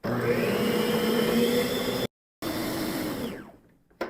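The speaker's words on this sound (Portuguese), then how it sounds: "Na batedeira você dá uma misturada antes e agora é só bater por 10 minutos." An electric stand mixer beats sponge cake batter with a loud, steady whirring drone, cuts out abruptly, starts again, then winds down and stops, with a short burst at the very end.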